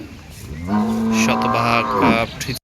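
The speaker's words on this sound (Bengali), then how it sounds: "আমরা ইতিমধ্যেই ভিডিওতে দেখতে পাচ্ছি অত্যন্ত চমৎকার বিশাল কয়েকটি গাভী" A Friesian dairy cow at a cattle market gives one long, loud, close moo lasting about a second and a half, with faint crowd noise behind it.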